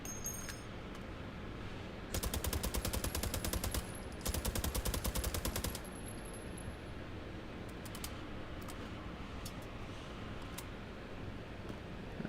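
Gunfire in the VR shooter H3VR, two rapid bursts of automatic fire, each lasting over a second, followed by scattered single clinks, moderately loud over a steady background.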